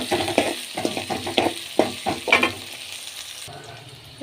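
Onions and garlic frying in a pan, a crackling sizzle broken by irregular stirring scrapes that fades to a quieter hiss near the end.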